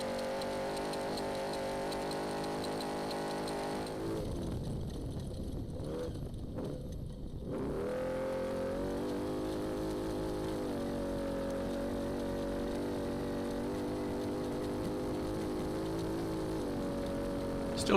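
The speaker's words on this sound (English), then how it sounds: "As we go back on board here and picking up some engine audio." On-board engine of an off-road race vehicle during the NORRA Baja rally from Ensenada to San Felipe, a loud continuous drone that dips and roughens briefly, then settles into a steady, even hum.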